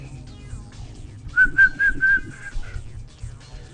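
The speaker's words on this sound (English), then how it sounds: "I like the whistling." Whistled melody from the music of the video game Legend of Tux, a clear, bright tune of several rising and falling notes over a soft background music bed, with no talk.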